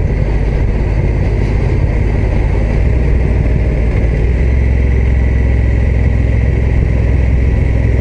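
The engine of a Honda NT1100 DCT touring motorcycle runs at a steady idle, a continuous low rumble close by with no speech over it.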